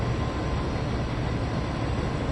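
A steam locomotive in Train Sim World 2 runs steadily along the line, giving a continuous rumbling rail roar of wheels and train noise with no voices.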